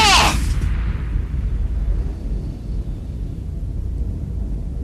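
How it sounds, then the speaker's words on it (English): A loud sci-fi spaceship explosion bursts at the start, a sharp blast that quickly settles into a long low rumble lingering for several seconds, with no talk. "What was that explosion?"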